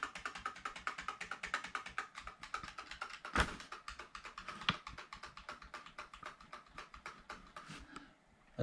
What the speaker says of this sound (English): Start hitting the enter button as soon as you boot up.